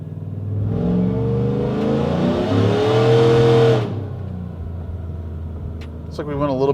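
A supercharged, BTR 220-cammed 2014 GMC Sierra 5.3 V8 revs loudly and close up on a partial-throttle pull, rising in pitch for about four seconds, then drops back to a steady idle, with a short whine near the end.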